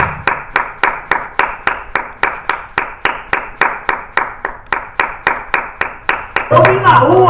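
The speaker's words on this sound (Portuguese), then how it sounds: "Uma salva de palmas para Jesus Cristo." A church congregation claps in a steady, even rhythm of sharp, loud handclaps for Jesus Christ, swelling into a fuller burst of applause at the end.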